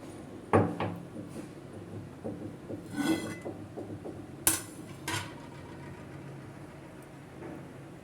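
Metal clatters and clanks sound as the lid comes off a pot of seeraga samba chicken biryani after the stove is turned off, several sharp knocks and scrapes spread over a few seconds with no talk.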